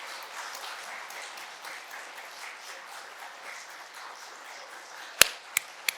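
A church congregation applauds during a Sunday service farewell, a steady, moderately loud wash of many hands clapping that ends in a few sharp, louder claps near the close.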